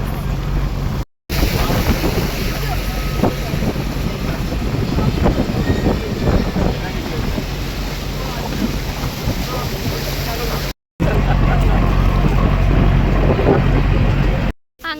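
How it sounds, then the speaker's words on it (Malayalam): A jet boat passes on the Kuttanad backwaters, a loud, continuous engine roar with rushing water and heavy wind buffeting on the microphone, broken by brief cuts. "ഓ ഒരു കാര്യം കൂടെ കാണാൻ ജെറ്റ് പോകുന്നു"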